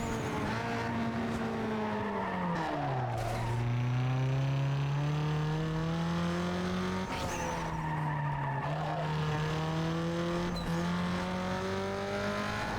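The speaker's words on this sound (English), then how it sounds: "I'm going to hear this car's acceleration and deceleration in my dreams when I sleep after this." A car in the racing video game Need For Speed Underground 2 revs up through rising engine pitch, drops sharply on gear shifts and decelerations, then climbs again in repeated loud sweeps, with no voices.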